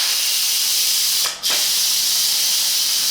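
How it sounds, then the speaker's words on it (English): Steam from a pressure cooker vents in a loud, steady close-up hiss, with a brief dip in the middle as the valve is pushed before the rush resumes. "we'll push and get all that steam out"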